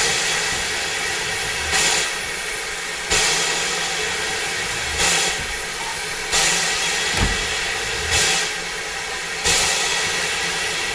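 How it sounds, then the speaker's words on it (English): Steam locomotive on the Kent & East Sussex Railway working steadily, a constant roaring hiss punctuated by regular loud exhaust chuffs every second or so, close and prominent with no voices. "Two steam trains in a day."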